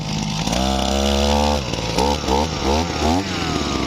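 A Mitsubishi TL33 earth auger drills holes with a loud, close two-stroke engine drone, steady at first and then rising and falling in several revving surges as the bit bites into the ground.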